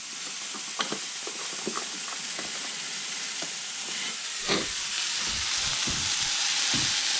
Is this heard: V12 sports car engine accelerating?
no